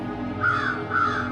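A large crow caws twice in a row, a pair of harsh, nasal calls standing clear of a low ambient hum, fairly close and alone with no voices.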